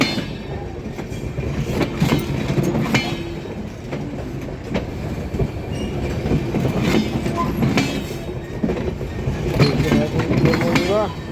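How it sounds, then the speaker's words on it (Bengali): A train runs across railway points during a track change, its wheels clattering in a dense, irregular run of heavy metallic knocks and clacks over a constant rumbling roar that stays close and loud throughout. "দেখতে থাকুন ট্রেনের লাইন পরিবর্তন"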